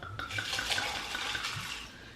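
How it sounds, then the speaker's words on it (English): Triple sec liquor free-poured from the bottle for a strawberry margarita, a steady liquid stream splashing for about two seconds, close and fairly continuous with no talk over it. "And then I'm going to take my triple sec. I'm gonna just free pour this one."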